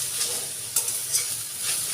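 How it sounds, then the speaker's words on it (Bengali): Washed, chopped fenugreek greens tossed with salt in a pan, giving a steady close sizzle with soft scraping stir strokes and a few brighter rustles. "এবার খুব ভালো করে একটু নাড়াচাড়া করে নেব"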